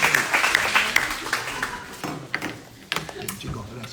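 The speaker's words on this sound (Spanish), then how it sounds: "Aplausos." Audience applause at a live program broadcast from a university campus, a burst of clapping at the start that thins and fades into scattered claps beneath voices.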